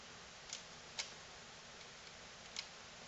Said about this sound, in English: test the trigger